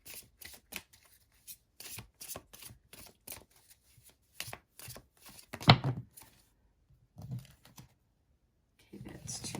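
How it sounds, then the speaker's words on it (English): Oracle cards from a Living Light deck being shuffled by hand, a rapid series of crisp papery riffles and taps in quick bursts, close and clear, with a brief pause and a louder flick midway. "Okay, that's too many cards. Let's just give it a shuffle here."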